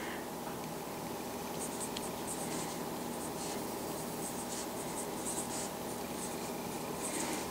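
A pen scratches across paper as numbers for factor pairs are written by hand, giving a continuous soft rasp broken by short strokes and pauses, close and quiet.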